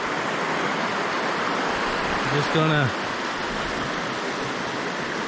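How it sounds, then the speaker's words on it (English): Sulphur River flowing near Grande Cache: a steady, broad rush of moving water fills the whole scene, with someone briefly speaking over it midway. "Here we are at the Sulphur River."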